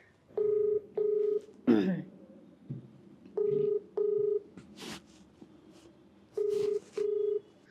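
A phone number is dialed on a touch-tone telephone: six clear beeps in three evenly spaced pairs, with a brief rustle and faint background noises between them.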